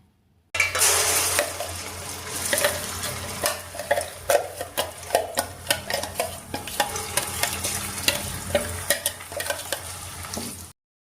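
Ground masala paste fries in hot oil in a pot as a spoon stirs it, giving a steady sizzle broken by repeated sharp scraping and tapping strokes, close and alone.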